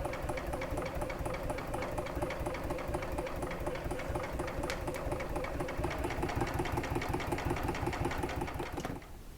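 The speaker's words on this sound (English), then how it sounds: "I am sewing on the side where my design is on the Aida cloth." A sewing machine stitching through Aida cloth, a steady fast mechanical whirring with a rhythmic needle clatter, close and continuous before it stops near the end.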